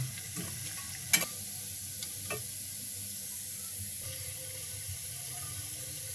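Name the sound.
frying coconut pitha in a wok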